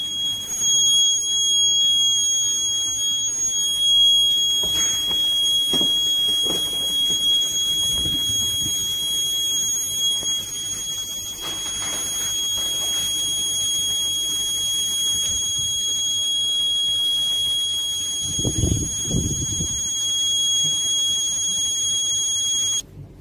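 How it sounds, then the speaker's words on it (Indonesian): A toxic gas leak warning alarm sounds a steady, high-pitched electronic tone continuously, with a few low rumbling thumps in the background and no one speaking. "ketika alarm itu berbunyi, maka di sini akan mendapatkan notifikasi."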